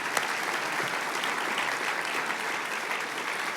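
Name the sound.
audience applause at a donor luncheon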